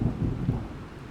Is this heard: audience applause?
no